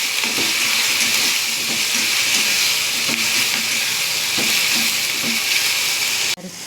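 Onion and tomato sauté with peanuts in a hot pan for semolina upma. A bright, continuous sizzle runs under faint rhythmic stirring taps, then cuts off abruptly near the end.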